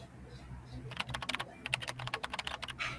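Rapid keystrokes clatter on a computer keyboard, a quick irregular run of close, crisp clicks that starts after a brief quiet moment, with faint background murmur.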